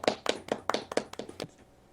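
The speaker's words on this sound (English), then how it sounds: "Congratulations, golf clap." A single person gives a soft golf clap: about eight close, evenly spaced hand claps that slow slightly and then stop, leaving quiet.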